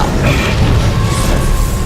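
A loud, sustained explosion roars in the sci-fi game Dead Space 3, a dense rumbling blast with crashing debris filling the moment without pause.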